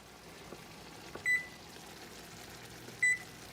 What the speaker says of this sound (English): We're going to go ahead and start preheating our oven.